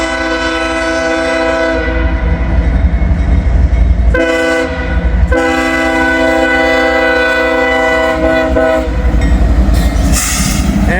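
A pair of CSX locomotives passes close by near a rail junction, with loud sustained horn blasts over a rumbling engine drone and rolling wheel noise.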